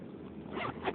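A short zipper on a pouch is pulled open in a quick raspy zip, close to the microphone, lasting about a second.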